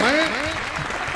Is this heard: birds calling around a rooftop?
no